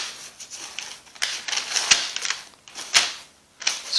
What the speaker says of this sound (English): so we'll take out the steak. Unwrap it.